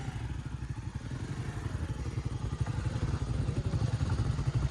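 Motorcycle with failed brakes riding a rough, dangerous stony mountain road, its mid-pitched engine droning steadily with rattling clatter over bumps, fairly loud and continuous throughout.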